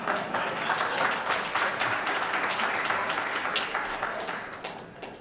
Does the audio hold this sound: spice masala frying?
no